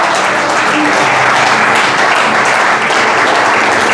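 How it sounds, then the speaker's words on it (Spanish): A church congregation applauding steadily and loudly throughout, a dense continuous wash of clapping hands with no pauses. "Dale un aplauso al Señor."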